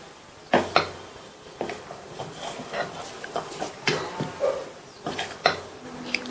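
Dosa batter made from idli batter with beetroot juice, chilli powder and salt being mixed in a bowl: scattered clinks and scrapes of a utensil against the bowl at close range, with no talk.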